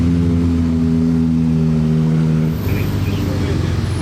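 A Ferrari 458 with an aftermarket exhaust line drives past at a Ferrari rally, its loud steady engine drone holding close before dropping in pitch and easing off as the car moves away.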